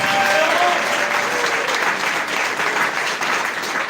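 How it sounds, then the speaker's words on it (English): Audience applause at a Saturday recognition event for AIM Global in Zambia: dense, steady clapping from a crowd fills the whole stretch at a loud level, with faint whistles or voices riding on top. "let's give a big round of applause, please."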